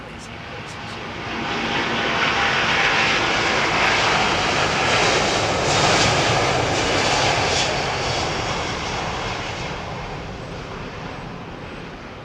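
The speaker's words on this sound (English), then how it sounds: "It's a Rolls-Royce powered jet." A Rolls-Royce Trent-powered jet takes off from runway 27R at London Heathrow, its engine roar swelling from a distance to a loud, broad sustained rush before easing away.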